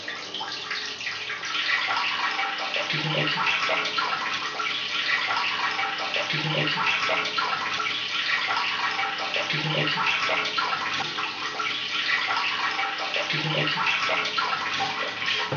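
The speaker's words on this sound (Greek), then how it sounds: "Βάζουμε χρωματισμένο νερό στο χωνί και γυρίζουμε το σωλήνα κατακόρυφα." Coloured water pours through a funnel into a vertical tube in a school physics experiment on Bernoulli's law, a constant close trickling rush with soft low thumps recurring every few seconds, with no talk.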